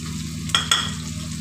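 Tomato dropped into a pan of frying onions and spices while cooking sabz turai, a brief burst of sizzling with two quick sharp spits over a steady low hiss of oil, close and without talk.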